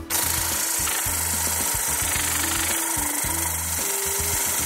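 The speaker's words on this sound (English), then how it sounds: "excuse me while my noisy air compressor sets itself off in a hissy fit" Noisy air compressor running in a workshop during car interior detailing, a loud continuous hiss over a pulsing, rattling mechanical chug that holds steady throughout.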